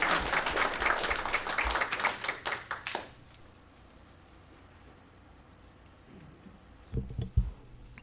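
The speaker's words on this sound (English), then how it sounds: "Could we have a round of applause for him?" Applause at a city commission meeting, a brisk burst of clapping that fades out after about three seconds, leaving a quiet room with a few faint thumps near the end.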